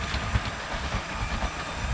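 LEGO Orient Express toy train running along its track, a continuous close rumble with a light rhythmic clickety-clack of wheels over joints.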